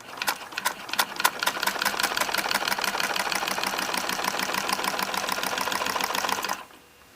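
A Singer 99 sewing machine stitches in a fast, even mechanical chatter, starting with a few separate clicks, running steadily, then stopping abruptly just before the end.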